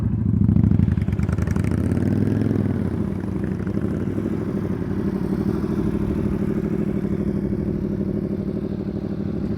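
A motorcycle engine hums and rumbles at low revs as the rider eases the clutch out during skills practice, steady and close with a slight swell early on and no talk.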